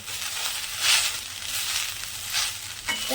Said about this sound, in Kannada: ಇವಾಗ ಪುದೀನ ಹಾಕ್ತಿದ್ದಾರೆ. ಪುದೀನ ಹುರ್ಕೋತಾ ಇದ್ದಾರೆ.